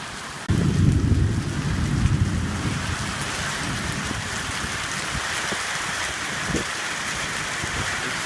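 Heavy rain pours steadily during a Northeast Texas thunderstorm, wind driving it under a canopy, with a dense continuous hiss that swells sharply after a quiet start and a few faint low rumbles and splashes beneath.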